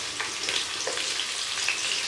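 Onions hitting hot oil in a kadai give a steady, close, bright sizzle that crackles evenly throughout, with no voices.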